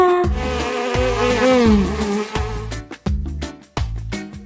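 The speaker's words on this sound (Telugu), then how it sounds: "ఈ అంటే ఈగ." A buzzing housefly drone hums over a musical backing, then gives way to a rhythmic beat with regular percussive hits.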